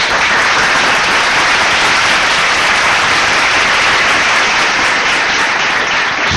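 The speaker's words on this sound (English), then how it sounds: "let's give a clap to everybody who signed at National Signing Day" Sustained, dense applause fills the room for several seconds at steady volume, with no talk over it, as an audience claps for National Signing Day signees.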